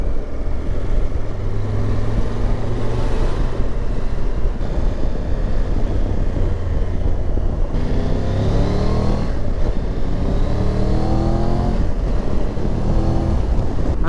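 A 2022 Triumph Tiger 1200 GT Pro motorcycle with a T-plane crank engine rumbles steadily under heavy wind rush while riding, with the engine note rising through several rev sweeps and gear changes.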